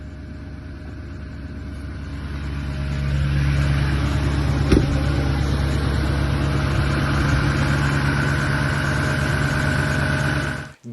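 A truck engine idles steadily for about eleven seconds, a low, even rumble that swells slightly after the first few seconds and then holds, with one brief click partway through.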